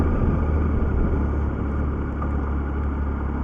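A 2007 Triumph Tiger 1050 motorcycle cruising at 30 mph, its engine a steady, close low rumble with strong wind roar and no voices.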